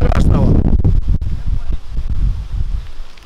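Strong wind gusts roar and buffet the microphone outdoors at a beekeeping apiary, loud and continuous, with rustling and a voice speaking under the noise.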